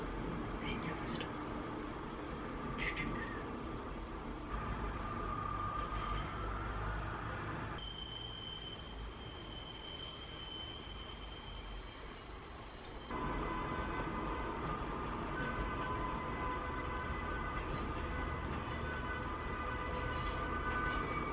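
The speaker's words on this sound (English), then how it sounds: "Trains, they never stop. They never stop." Trains rolling past in Wales, a continuous low rumbling clatter of rail cars with brief higher squeals, steady and fairly close throughout.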